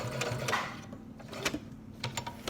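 A sewing machine back stitches fabric, a close, busy rattle of needle strokes with uneven ticking bursts and short pauses over about two and a half seconds.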